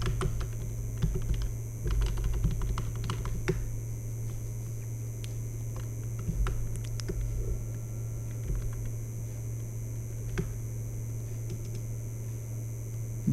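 Steady typing of code on a computer keyboard, with irregular bursts of light key clicks over a constant background hum, close and unaccompanied by speech.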